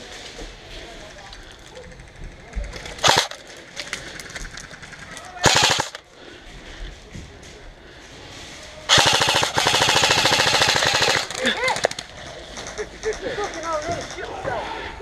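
Airsoft guns fire in rapid automatic bursts during an outdoor skirmish game, with two short volleys followed by a long sustained stream of shots, while players shout nearby.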